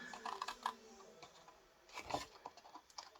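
Scissors snip through card stock while a gift box is being cut out, giving a few quiet, crisp cuts in two short bursts with no talking.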